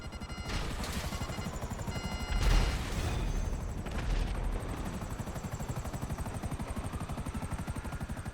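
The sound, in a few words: helicopter in a video game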